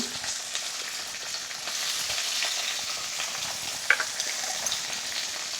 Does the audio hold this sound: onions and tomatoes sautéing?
yes